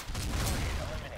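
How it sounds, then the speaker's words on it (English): A grenade blast amid gunfire in the video game Total Conflict: Resistance, during an airfield assault, heard as a brief, dense burst of loud, booming shots and explosion noise. "I got him with the grenade."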